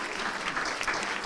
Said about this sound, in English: Clap, clap, clap.